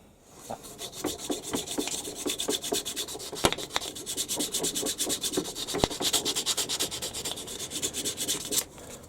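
Sanding with 240-grit sandpaper by hand on a shop-made knurling tool part, a steady run of close, rhythmic rubbing strokes with a couple of sharp taps, alone without talk.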